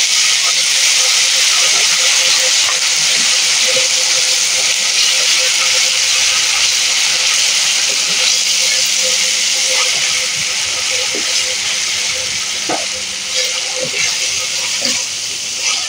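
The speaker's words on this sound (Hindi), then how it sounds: "मैं इसमें लहसुन अदरक का पेस्ट डाल देती हूँ, थोड़ा सा इसको कुछ सेकेंड में भूनती हूँ।" Garlic ginger paste sizzles with fried onions in a pan while kaleji is being cooked, giving a loud, steady, hissing fry that runs unbroken throughout, with faint clinks and a voice in the background.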